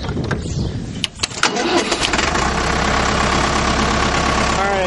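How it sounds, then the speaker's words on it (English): A tractor engine cranks and catches with loud rough bursts, then settles into a steady close idle for the rest of the clip, with a voice briefly heard near the start. "let me fire up the tractor here"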